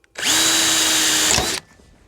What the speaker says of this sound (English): So now we're going to drill a hole.